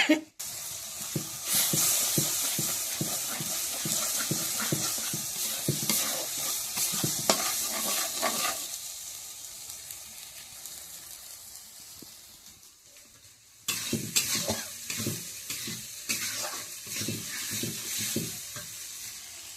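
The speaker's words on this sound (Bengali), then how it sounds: "আলুটা দিয়েই কষিয়ে নিচ্ছি" Vegetables including fried potato are sautéed in a pan, a loud close sizzle with constant rhythmic stirring scrapes, cutting out briefly near the middle before the frying and stirring resume.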